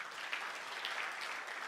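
A church congregation claps together during a worship service, a dense steady patter of many hands, close and continuous with no talk.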